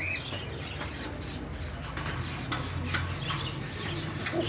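Pigeons beat their wings around a rooftop loft, a run of quick flapping bursts over a dense, noisy background, with soft cooing and faint chirps mixed in.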